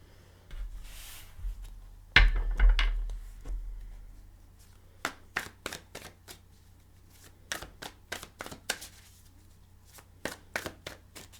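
Tarot cards being shuffled and riffled close up, a soft thud followed by a run of crisp, evenly spaced snapping bursts, with no talk.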